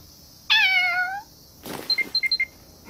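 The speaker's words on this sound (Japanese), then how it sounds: "猫、キャット、下界の愛玩動物ですね" A cartoon cat from the anime Gabriel Dropout gives one clear falling meow, followed by a brief rustle and a quick series of short high chirps, all fairly close and quiet.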